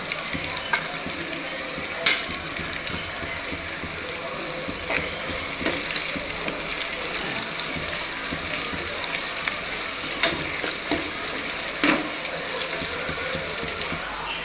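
Sliced onions frying in oil with a spoonful of salt, for a mushroom biryani, give a steady broadband sizzle with occasional stirring clicks throughout, fairly close and with no talk.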